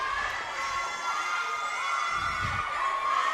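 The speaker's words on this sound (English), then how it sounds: "It's a very loud gym. The crowd is excited." Crowd cheering in a loud gym at a high school girls volleyball match, a continuous roar of shouting and high excited voices at close range, with a brief low thump partway through.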